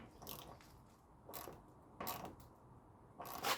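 A wrench tightens small bolts on a BMW F30 328i, giving three or four short bursts of ratcheting clicks separated by pauses. The clicks sound close and fairly quiet.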